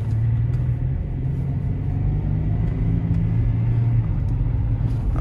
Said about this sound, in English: I just heard a little bit of something from that engine